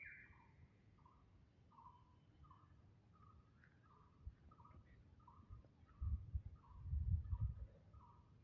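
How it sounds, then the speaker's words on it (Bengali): A bird calls over and over in a steady series of short, bright notes, with a faint background hum and a low rumble near the end. "আর এদিকে পাখির ডাক শুনুন"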